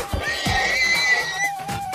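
A horse in the video game Minecraft gives a loud, close whinny lasting over a second, with a few soft thuds around it and nothing else.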